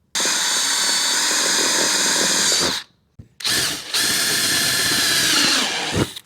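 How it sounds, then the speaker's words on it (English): A power drill bores holes through the fender of a 2025 Yamaha RMAX4 1000, whining loudly and steadily in two long bursts split by a short pause, then stopping with a brief final spin-down. "You wanna hold that fender right where you want it and drill your holes"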